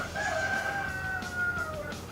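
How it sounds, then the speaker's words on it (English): A neighbour's rooster crowing once in a long, drawn-out cock-a-doodle-doo, loud and steady, heard alone against a faint background. "And if you hear a rooster crowing,"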